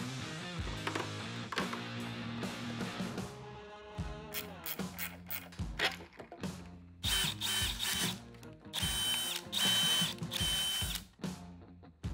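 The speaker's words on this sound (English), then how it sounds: "to tighten the nuts down on the cover, I'm using a 10mm pass-through socket" A 10mm pass-through socket tightens nuts on a Harley-Davidson speaker cover, producing bursts of rapid mechanical whirring and ratcheting that start and stop repeatedly at close range.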